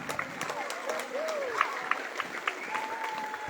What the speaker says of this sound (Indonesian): kita bersama-sama memberikan aplaus untuk Paskibra tahun